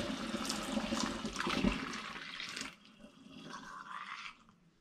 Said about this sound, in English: I'm now going to top my demijohn up with spring water.